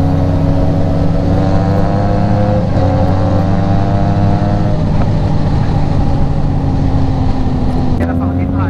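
A Honda CB650R E-Clutch motorcycle rides close by with a loud, steady engine drone that rises and falls slightly in pitch, while people talk over it throughout.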